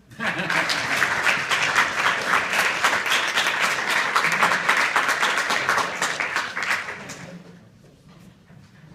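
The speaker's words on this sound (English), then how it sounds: "one more round of applause" An audience at a university club event bursts into loud, dense applause for about seven seconds, then it fades out into quiet room noise.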